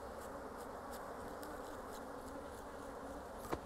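A steady, close swarm drone of honey bees around a brushed hive comb, continuous and even with a brief sharp knock near the end.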